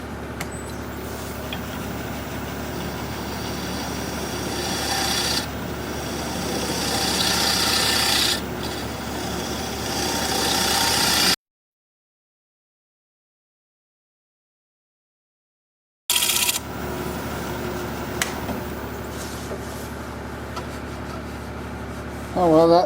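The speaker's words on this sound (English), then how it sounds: "I'm having a hard time getting a clean cut on this edge, so I think I'll just rely on the scraper." A scraper rasps against a small sycamore bowl spinning on a wood lathe, a steady close scraping hiss that swells in passes, breaks off for a silent gap, then resumes.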